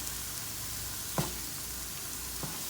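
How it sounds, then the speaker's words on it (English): Shrimp and green onions sautéing in a pan, a steady close sizzle with a couple of faint clicks of a utensil against the pan, no voices. "And let these saute a little bit."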